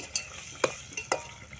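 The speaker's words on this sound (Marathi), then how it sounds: "त्यामध्ये आपण टमाटर टाकून घेऊया" Tomatoes tossed into spiced masala frying in a pan for chicken curry, a low sizzle under a few distinct scraping stirs of a spoon, close and fairly quiet.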